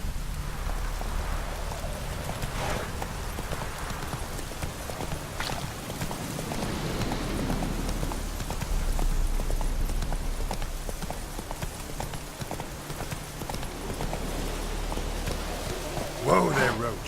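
Roach the horse's hooves clip-clop steadily in The Witcher 3, a continuous walking rhythm under a steady rain-like wash, with a voice speaking in the background.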